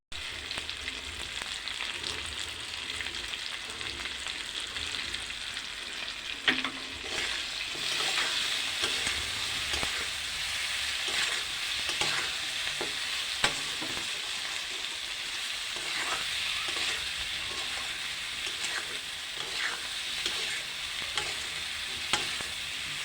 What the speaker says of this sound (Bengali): এবার দিয়ে দেবো স্বাদ মতো নুন আর হলুদ দেবো।